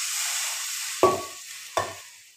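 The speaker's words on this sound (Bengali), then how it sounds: "এই দিয়ে দিলাম জল" Water goes into a pan of frying spices for a Bengali-style pabda fish curry, giving a close sizzle that fades, then two sharp splashing bursts a moment apart, with no voices.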